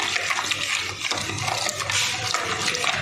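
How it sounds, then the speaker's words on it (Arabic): Water poured onto yeast for bread dough, a steady close rushing pour lasting a few seconds, with no talking over it. "أنا راح أخط المي والخميرة"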